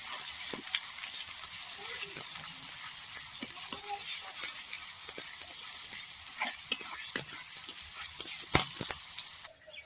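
Onion frying in a pan with ginger, garlic, cumin, turmeric and salt added, giving a steady close sizzle with scattered scraping stir strokes throughout.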